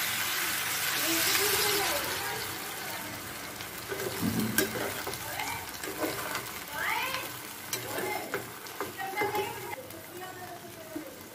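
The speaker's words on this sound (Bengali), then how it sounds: "এবার সবজির মধ্যে আমি জল ঢেলে সবজিগুলো সেদ্ধ হতে দেবো" Water poured into vegetables frying in a pan while cooking a Bengali pui shak (Malabar spinach) chorchori with fish heads, a loud hiss and sizzle that settles into bubbling, with a few squeaky meow-like sounds above the frying.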